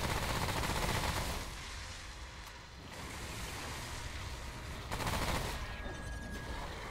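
Gunfire crackles during a boss fight in the shooter game Remnant: From The Ashes, with rough bursts of shots over a dense, roaring game soundscape, loudest at the start and again around the fifth second.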